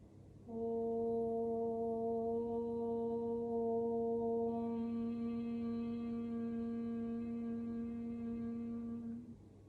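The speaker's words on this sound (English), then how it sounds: "We're going to chant the sound of Om 3 times" A single long Om is chanted during a yoga session, a steady, resonant, humming vocal tone held for about nine seconds after a brief pause, then fading out.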